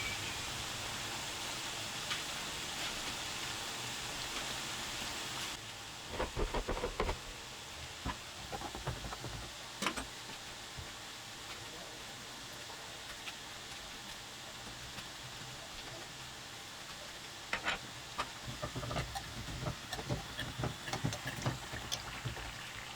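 Dumplings fry in a pan with a steady, rain-like sizzle, then scattered louder crackles and pops partway through.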